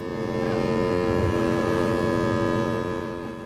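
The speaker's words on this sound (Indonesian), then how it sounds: "tiba-tiba terdengar suara klakson dari satu kapal" A ship's horn blasts in one long, steady, deep drone that holds loud throughout without any voices.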